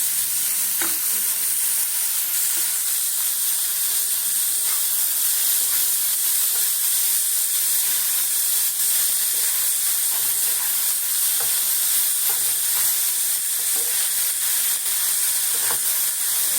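Mushrooms stir-fried in a pan, a loud continuous hissing sizzle with steady steam and occasional soft stirring scrapes, no voices.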